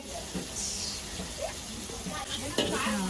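Garlic tadka sizzles softly in hot oil for chicken chilli, a steady low crackle with stirring scrapes and brief clinks, in a busy family kitchen.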